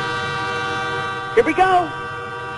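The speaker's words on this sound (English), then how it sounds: "There, here comes the train." A train horn sound effect toots a few short blasts on a radio show, heard over a steady background tone, with a voice speaking briefly.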